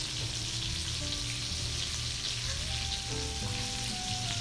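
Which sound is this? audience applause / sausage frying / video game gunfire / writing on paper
sausage frying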